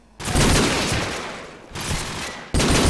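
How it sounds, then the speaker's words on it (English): Loud, dense gunfire bursts from a heavy firefight in a competitive tactical shooter match, with sustained volleys broken by a brief lull before another sharp burst. "In a heavy firefight with Froz"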